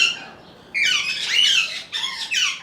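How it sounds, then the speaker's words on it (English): Loud, harsh bird squawks burst out close by in a few raucous calls, with a brief pause between them. "The coolest thing out here by far is these birds."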